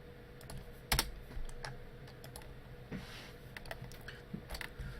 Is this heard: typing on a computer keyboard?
yes